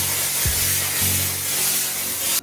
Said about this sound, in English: just gonna spray that with some oil.